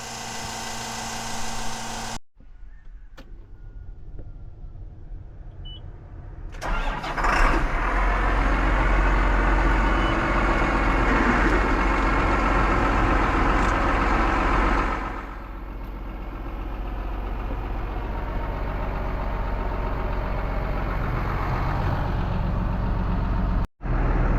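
A heavy diesel John Deere 8300 tractor engine cranks and fires up, then settles into a loud, steady warm-up idle that continues for a long stretch.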